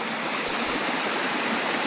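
A small mountain stream rushing steadily, a dense broadband burble of flowing water up close with no speech.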